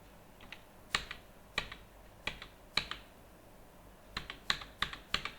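Fingers typing on a computer keyboard at a desk, two short bursts of crisp, close clicks separated by a pause, quiet and alone with no voices.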